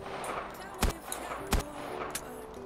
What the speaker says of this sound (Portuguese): Esse aqui é o novo modo Fortnite bazuca. Explosões.